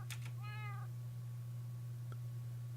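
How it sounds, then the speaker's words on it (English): Cats meowing in the Minecraft video game: a single clear drawn-out meow, preceded by short clicks and followed by a faint blip, over a steady low hum with no talk. "Hello? I hear cats."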